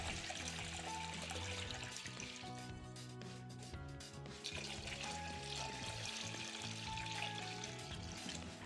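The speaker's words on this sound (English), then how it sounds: "add hot water until it's completely submerged." Hot tap water pouring steadily into a basin over a dirty pan soaking in washing soda and soap solution, a continuous loud rushing and splashing that stays even throughout.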